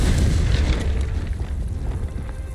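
A Confringo fire-blast spell goes off in the Hogwarts Legacy video game, a loud, deep rumbling explosion that booms at the start and then rolls and fades slowly.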